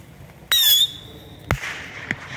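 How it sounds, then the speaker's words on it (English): A two-year-old Whistling Moon Traveler bottle rocket fires off with a loud, shrill rising whistle lasting a fraction of a second, followed about a second later by a sharp pop and a fading crackle. "it is a bottle rocket that is over 2 years old"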